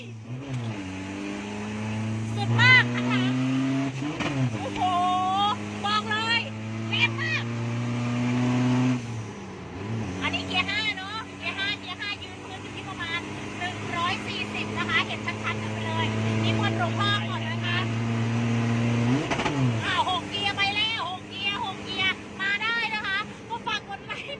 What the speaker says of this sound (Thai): เพราะว่ารถมันแรงมาก 6 สปีดนะคะ อันนี้ใส่เกียร์เรียบร้อยแล้ว